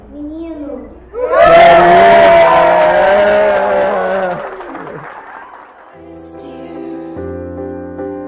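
A crowd of family members bursts into loud cheering, whooping and applause at a baby-girl announcement, swelling suddenly and holding for a few seconds before fading, with voices and music around it.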